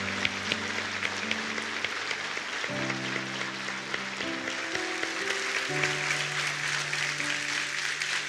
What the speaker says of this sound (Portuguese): os homens vão ficar de pé e aplaudir de pé essas mulheres